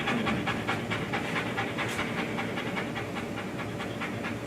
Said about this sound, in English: He's a working dog.